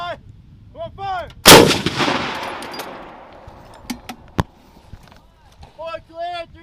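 Live-fire infantry training: a single loud, sharp gunshot booms and echoes away, followed by a few quicker, fainter cracks, with soldiers shouting commands before and after.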